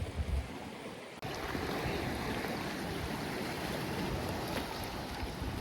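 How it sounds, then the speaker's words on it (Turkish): Steady rushing of sea waves and wind noise at a cove in Kandıra, Turkey, continuous and fairly loud, with a brief dip near the start. "Şu an deniz böyle. Gördüğünüz gibi biraz dalgalar başladı."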